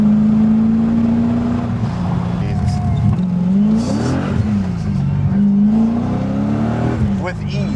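A BMW E30 coupe fitted with an M60B44 V8 accelerates hard from inside the car, the engine droning loudly and rising and falling in pitch as the tires break loose, with occasional voices over it.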